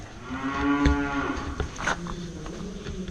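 A cow lets out one long, deep moo close by, fading into quieter farmyard background.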